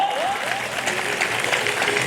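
An audience at a Hindi devotional satsang gathering claps together, a brief, fairly close burst of dense crowd applause with a faint tone sliding through its start.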